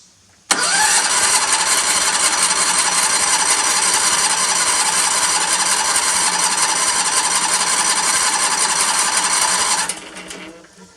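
A Predator engine on a Ditch Witch 1820 trencher cranks over on full choke, a loud, steady, close mechanical whir running about nine seconds before cutting off without catching.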